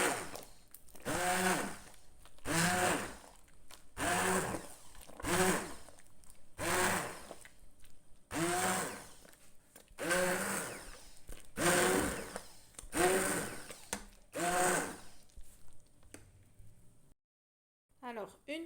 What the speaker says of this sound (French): je vais mixer directement à chaud